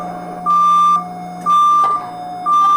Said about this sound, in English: That is the sound of the doors closing on the MRT